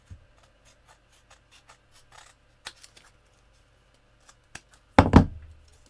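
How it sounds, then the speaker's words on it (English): Scissors snip a narrow strip of card, a few faint small clicks and rustles leading to a sharp, close cutting stroke near the end. "I just want to cut a narrow piece"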